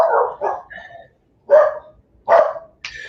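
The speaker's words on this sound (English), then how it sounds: "I could have sworn I just heard dogs bark" Dogs barking in a series of loud, close barks: a quick pair, then a pause, then single sharp barks at steady intervals, heard alone without talk.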